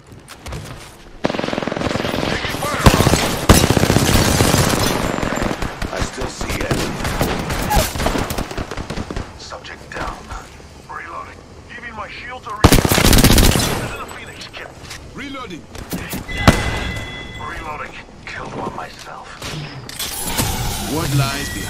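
Sustained automatic gunfire and bursts of shots from a squad-based shooter video game, loud and dense, with booming impacts and a heavy burst near the middle, under occasional voice callouts.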